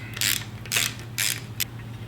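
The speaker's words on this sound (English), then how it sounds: "I'll loosen those each a little at a time." A ratchet works corroded bolts loose on the header of a WR250R motorcycle, giving four short, close bursts of rapid metallic clicking separated by brief pauses.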